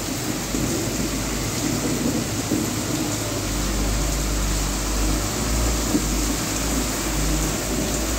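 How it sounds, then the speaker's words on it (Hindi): Heavy rain and strong wind during a flooding storm in Garh Maharaja, a steady hiss of downpour over a deep low rumble that swells and fades. "तेज़ हवाओं के साथ बारिश का सिलसिला जारी है गढ़ महाराजा में"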